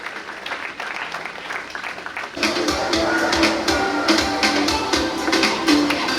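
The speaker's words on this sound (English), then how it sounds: "Kindly give them a big round of applause" An audience at a school science exhibition inauguration gives prize winners a round of applause, dense clapping surging in partway through after a quieter start and continuing loud and steady to the end.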